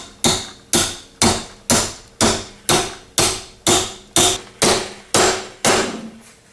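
Metal socket used as a tapping block, struck by a hammer to seat a bearing onto a StaRite Opti Flow pool pump motor shaft: about eleven sharp, evenly spaced hammer taps, loud and close, with no talk.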